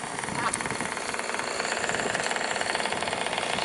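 Vehicle running with a loose wheel, giving a steady, fast rattling knock over broadband road and engine noise that continues throughout.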